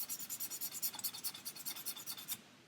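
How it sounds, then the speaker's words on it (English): A coarse sanding board rubs back and forth over a 1/400 scale Queen Mary 2 model ship hull in quick, even rasping strokes, close and quiet, stopping abruptly near the end. "so that's the first sanding bit done"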